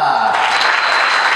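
An audience applauds at a cabaret festival in a theatre, a dense, loud wash of clapping that swells after a brief opening voice and then holds steady.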